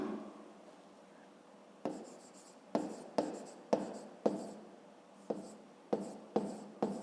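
Pen strokes on paper while a maths solution about a motorboat's speed against the current is written down for a fifth-grade exercise: a soft scratchy rub, then a run of quick, fairly close strokes and taps in uneven rhythm.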